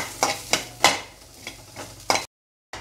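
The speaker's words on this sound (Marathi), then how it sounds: "कढईमध्ये कांदा टाकून चांगला भाजून घेऊ।" Onion dry-roasted without oil in a kadai, stirred with about six distinct, evenly spaced scraping strokes up close, over a soft sizzle before a sudden stop.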